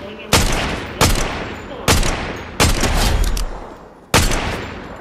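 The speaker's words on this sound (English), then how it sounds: "Oh, I just got shot at." Gunfire rings out in a video game duos match as shots come in at the player: five loud, sharp reports at irregular intervals, each with a lingering tail of noise.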